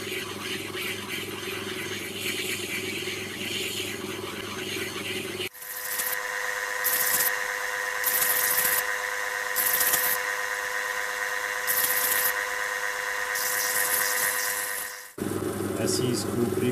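Lapidary machine grinding a rhodolite garnet, with a loud steady whine and squeal that cuts in sharply partway through and holds with slight wavering before a brief break, while someone talks over it.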